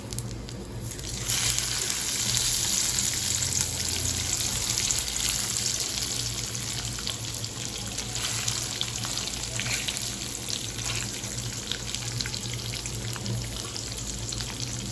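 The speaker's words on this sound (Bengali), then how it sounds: "মাছগুলো ভেজে নেব" Fish pieces frying one by one in a home kitchen pan, a steady close hiss and crackle of hot oil that swells after the first second and keeps going without letup, with no talk over it.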